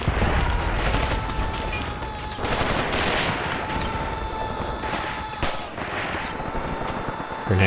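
Continuous gunfire and grenade blasts in the WWII tactical game Graviteam Tactics: Pivot Point, a dense, loud barrage of rattling shots and booms that carries on through the whole stretch.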